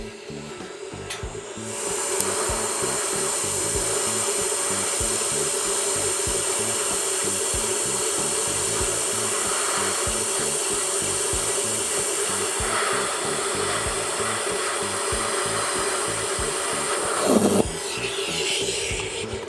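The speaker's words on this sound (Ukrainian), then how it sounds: "Все те ж саме запалюємо дугу, відкриваємо газ." An argon TIG welder, the Dnipro-M SAB-15DX, lays a straight bead with filler rod, giving a loud, steady buzzing hiss that runs almost unbroken for about seventeen seconds, then shifts briefly near the end.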